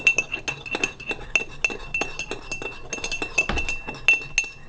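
A metal spoon stirs a little water in a cup to dissolve an ingredient for a partial-extract homebrew beer. Rapid, steady clinks ring against the cup, close and fairly bright, with no voices.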